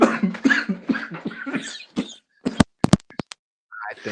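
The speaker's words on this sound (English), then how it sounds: "He's coughing." Several short, sharp coughs in quick succession, close by, following a stretch of talking, with a brief voice returning at the end.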